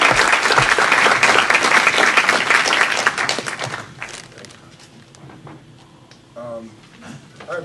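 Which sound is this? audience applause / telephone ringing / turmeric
audience applause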